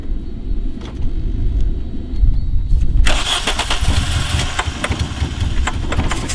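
A Volkswagen Golf 3, whose timing belt had a tooth jump, cranks and then fires up at about three seconds, settling into a loud, steady running engine with a rough, busy texture up close.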